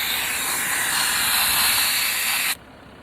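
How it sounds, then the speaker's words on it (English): Air hissing loudly and steadily out of an overlanding vehicle's tire while airing down to about 18 psi before a gravel road, close up, then cutting off abruptly near the end. "Airing down to about 18 psi."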